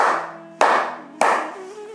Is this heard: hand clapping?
yes